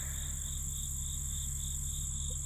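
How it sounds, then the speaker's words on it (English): Insects in a noisy, weedy vegetable garden, a continuous high pulsing trill over a steady low hum, even and unbroken throughout. "the garden is noisy, and there's bees and insects eating"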